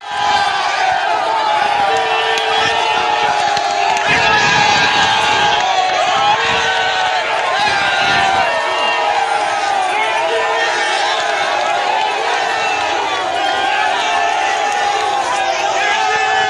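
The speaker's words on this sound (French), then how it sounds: "Edi Kapende qui a été accueilli par une foule immense à sa sortie" A huge crowd roars and cheers at Makala prison as released prisoner Edi Kapende walks out, a dense continuous mass of shouting, whooping voices filling the scene.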